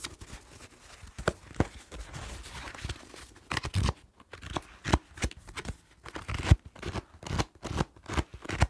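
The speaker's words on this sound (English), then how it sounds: "Let me shuffle the cards." A deck of playing cards shuffled up close in a quiet room, with crisp riffling and snapping bursts in irregular clusters, some sharper slaps standing out, soft and intimate with no talking.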